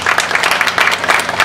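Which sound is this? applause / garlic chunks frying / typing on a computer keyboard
applause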